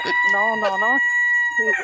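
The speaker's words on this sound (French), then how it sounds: "Là, le coq, ils ont rajouté un coq." A rooster crows a loud, close cock-a-doodle-doo, its drawn-out call followed by a shorter second burst, over a quiet background with no speech.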